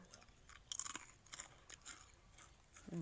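A thick, salted fried snack being chewed up close, with quiet crisp crunches and bites in irregular bursts.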